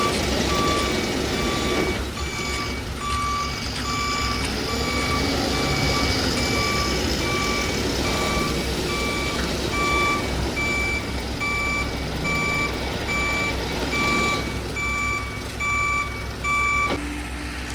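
An RMC ready-mix concrete truck reversing at a building site, its engine rumbling steadily while a loud, evenly spaced reversing beep repeats for most of the time before cutting off near the end.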